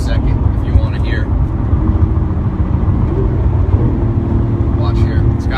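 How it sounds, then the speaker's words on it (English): Orange Lamborghini Aventador engine running close by, a deep steady low rumble that holds continuously, with people talking briefly over it. "I'll rev the engine for a second if you want to hear."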